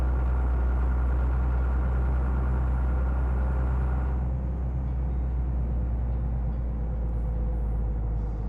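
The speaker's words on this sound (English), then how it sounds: "So the truck sounds okay right now because it's not going such high RPM" A truck engine idling at low RPM in Euro Truck Simulator 2, a steady, loud, deep rumbling drone that holds evenly throughout with no talking.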